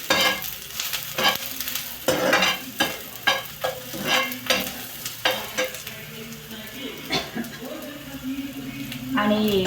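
Onion fries over a high gas flame, and a spoon scrapes and stirs it in a quick series of clattering strokes over a continuous sizzle. The cooking sounds are close, with some voice present in the background.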